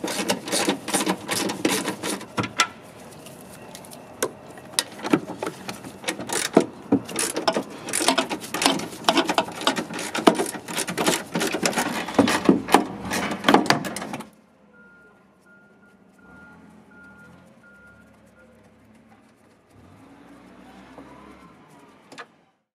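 Rapid ratcheting clicks from removing the two 13mm bolts that hold the airbox tray to the frame of a 2014-2018 Dodge Ram Hemi 5.7L, loud and close for about fourteen seconds, followed by quieter faint handling noises.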